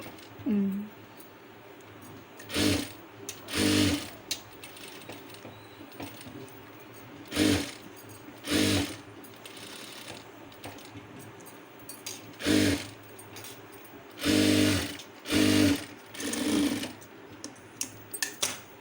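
A sewing machine stitches piping onto a star neck blouse, running in repeated short bursts of a few seconds each with brief pauses between them, close and fairly loud.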